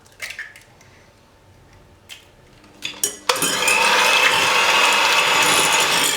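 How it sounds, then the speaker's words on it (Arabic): Two room-temperature eggs beaten for chocolate madeleines, a few clinks and taps at first, then a loud, steady whirring of a rapid beater churning in a bowl without pause. "غادي ندوز نطرب البيض ديالي، جوج ديال البيضات"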